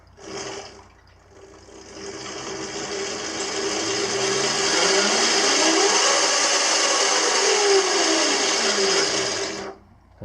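A Razor E200 electric scooter fitted with a variable throttle has its motor revved alone: a loud, close whine climbs in pitch, holds, then sweeps back down before cutting off, with a brief whir at the start.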